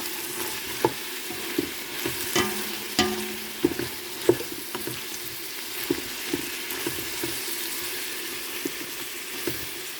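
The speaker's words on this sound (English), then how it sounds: "Let these saute down for about 5 minutes." Vegetables sauté in garlic-infused oil for a soup, a steady close sizzle with a scatter of sharp scraping and clinking stir strokes throughout; no one speaks.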